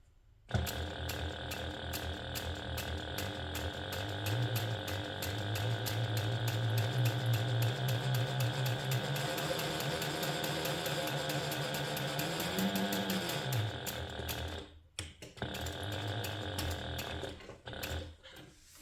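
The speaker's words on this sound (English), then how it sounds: "My sewing machine does sound funny." A sewing machine runs continuously with a rapid mechanical whirring and clatter, then stops briefly near the end and starts again.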